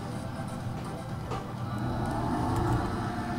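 A tractor in Landwirtschafts-Simulator 17 reverses with a steady low engine drone that builds slightly, alone with no voices.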